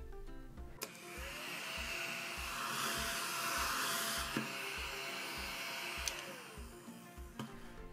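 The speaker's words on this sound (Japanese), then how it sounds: "後ろが掃除機のようになっていて、消しゴムのカスをきれいに掃除できます。" Small desktop vacuum cleaner for eraser crumbs whirs steadily with a high airy hiss, fairly close, over a soft rhythmic background beat, with no talking.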